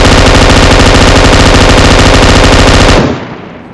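Sustained automatic gunfire from the PUBG Mobile battle royale game, a loud dense rapid burst of shots for about three seconds that cuts off abruptly, leaving a faint tail.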